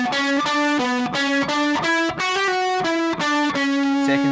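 Distorted electric guitar with an effects unit plays the opening sequence of a riff, a fast run of crisp, evenly spaced picked notes, loud and saturated, with no voices.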